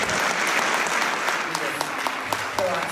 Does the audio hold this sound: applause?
yes